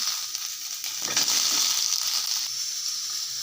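Potatoes fry with ginger garlic paste and mustard seeds in a hot pan, giving a steady bright sizzle with a brief rustle of stirring partway through.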